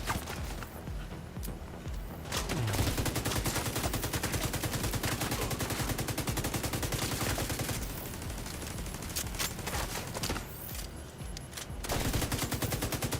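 Light machine gun fire in The Division 2, long sustained bursts at a slow rate of fire with short pauses between them, loud and close with no talking.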